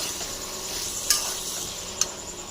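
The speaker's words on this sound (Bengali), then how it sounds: "এবার কাবলি ছোলা আলু মশলার সাথে ভালো করে কষিয়ে নেব" Chickpeas and potatoes frying with spice masala, a steady close sizzle with two sharp clinks of a spoon stirring against the pan, no talking.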